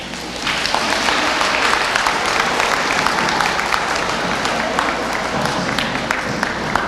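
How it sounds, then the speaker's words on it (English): Sustained applause fills a banquet hall as students clap steadily at an academic awards dinner, a dense, even wash of many hands that holds at a constant level throughout. "and applaud for them"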